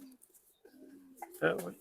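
Soft coos of army line pigeons rise and fall nearby, a few low throaty calls, the last one louder, with faint voices in the background.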